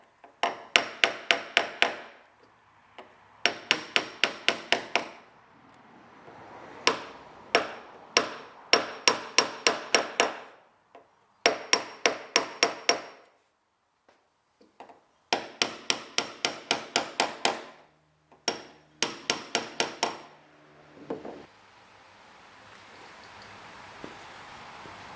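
Bursts of rapid hammer taps in quick runs, separated by short pauses, driving small nails through model train track into wooden sleepers; the pitch of the strikes shifts as they go in.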